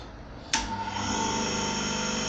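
A homemade bench grinder running, a steady close motor whine that jumps to a brighter, louder hum about half a second in and holds evenly.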